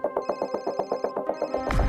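A telephone rings in a rapid repeating electronic trill, clear and close, then cuts off into a low thud.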